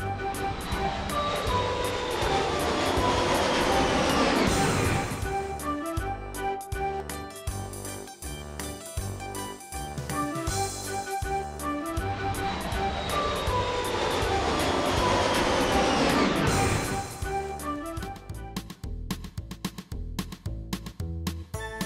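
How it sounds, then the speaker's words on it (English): An aeroplane roars loudly overhead, its whining engine sweeping downward in pitch as it passes, heard twice over, with choppy mechanical pulsing in between and no voices. "Aeroplane."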